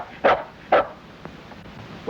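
A dog gives two sharp, close barks about half a second apart, followed by a few faint ticks in an otherwise quiet outdoor scene from an old Western.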